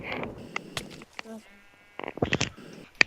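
Sheep bleat in the Minecraft Tekkit modpack, short wavering calls mixed with game sounds while players talk over them.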